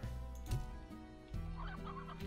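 Chickens clucking inside a coop in the Slime Rancher video game, a steady run of close, overlapping clucks and squawks with a low game hum underneath.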